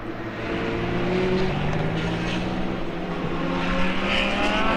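Audi GT race car at full pace on the Autodrom Most circuit during an endurance race, a steady loud engine drone with sustained high revs and a rising pitch, continuous throughout with no pauses.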